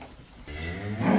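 A cow or buffalo at a dairy farm gives a single rising moo that swells and grows louder over about a second, with no talk.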